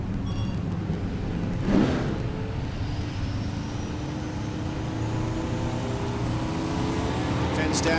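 Drag race car at Texas Motorplex spooling its turbo on the starting line, a loud sustained engine drone with a rising whine climbing steadily, heard at a distance with crowd and track ambience around it.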